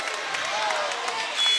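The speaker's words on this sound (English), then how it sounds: "Hudson crowd getting into it" A high school varsity boys basketball crowd in a gym cheers and claps in a steady, dense wash of applause, with voices mixed in throughout.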